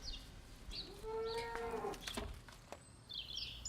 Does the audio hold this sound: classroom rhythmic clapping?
no